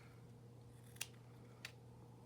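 Two quick crisp scissor snips through paper while cutting a tag for a DIY ephemera project, close and isolated against a quiet steady hum.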